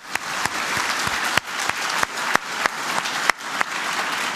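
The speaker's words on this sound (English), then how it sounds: "huge round of applause just for that." Applause from a hacker conference audience after a lightning talk, a steady wash of many hands clapping with sharper individual claps popping out at irregular moments.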